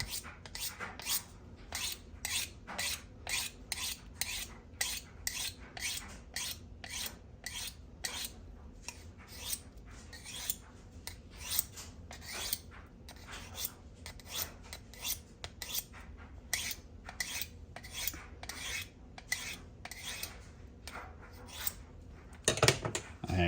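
A kitchen knife blade rasps repeatedly along an abrasive sharpening steel, a steady run of quick, close scraping strokes in even rhythm for the whole stretch, with a brief heavier scrape near the end.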